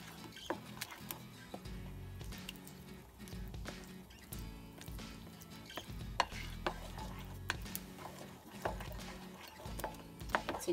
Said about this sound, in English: So just keep mixing until all the lump is gone, everyone.